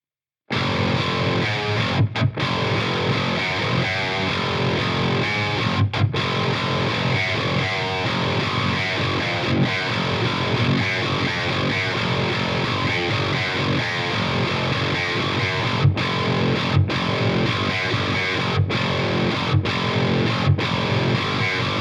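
Heavily distorted 8-string electric guitar played through an Axe FX into an oversized Bogner 2x12 cabinet loaded with V30 speakers, chugging riffs with brief stops, loud and continuous without any voice.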